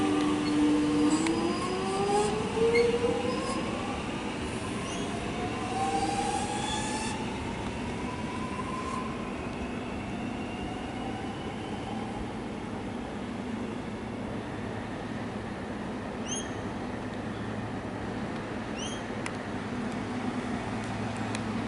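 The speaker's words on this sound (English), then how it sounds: "We've also got a Blackburn service arriving on platform 3." A Melbourne suburban train, a Blackburn service, pulls into Glenferrie station platform with a rolling rumble and a brief wheel squeal early on, fading into a steady low hum as it settles.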